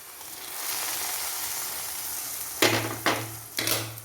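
Mustard seeds, fenugreek, cumin, shallots and curry leaves sizzle in hot oil for an ash gourd pulissery, a steady close hiss broken near the end by three sharp bursts with a low hum underneath.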